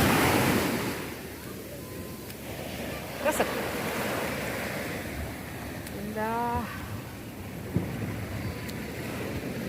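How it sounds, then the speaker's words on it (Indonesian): Boat ride on the open sea at Carita beach, a continuous wash of waves and wind buffeting the microphone, close and steady, with a few brief voices speaking over it. "Mak dia naik perahu."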